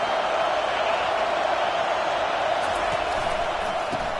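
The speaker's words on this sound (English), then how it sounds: "Listen to this crowd just shaking the girders of this place," Stadium crowd roaring at a college football game of the Horned Frogs, a dense, loud, continuous wash of cheering and noise from thousands of fans that never lets up.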